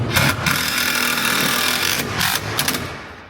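Three-inch screws are driven into cedar shingle roof panels on a shed kit, with short whirring bursts from a power driver and wood rubbing sounds over a steady, close background.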